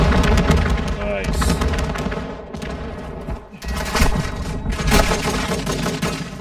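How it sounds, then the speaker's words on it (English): Rapid bursts of automatic gunfire and booming shots in a multiplayer shooter game's hardpoint match, loud and continuous with a brief lull midway, while players talk over it. "Oh, yeah, bullets."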